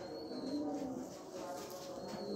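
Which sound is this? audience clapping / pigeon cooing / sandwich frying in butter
pigeon cooing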